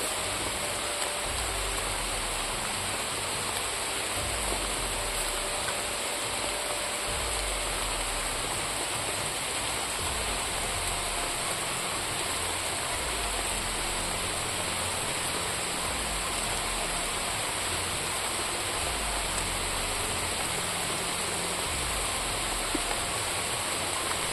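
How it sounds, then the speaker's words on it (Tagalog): Steady, dense rainfall pouring down with a constant hiss and low rumble, unbroken throughout and fairly loud. "Grabe yung ulan mga idol"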